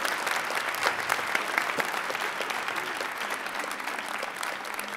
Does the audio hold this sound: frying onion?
no